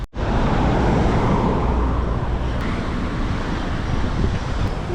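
Heavy road traffic rushes steadily past at close range on a Beirut street with no traffic lights, a loud continuous roar with wind buffeting the microphone throughout.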